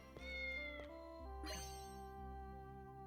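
A cat meows in the video game Fantasian: Neo Dimension, several clear tonal meows in a row over a steady low game hum, close and fairly soft.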